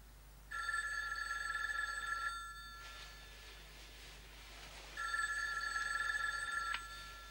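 An old-style telephone bell rings in two long bursts with a pause between, clear and fairly close, in a quiet indoor setting.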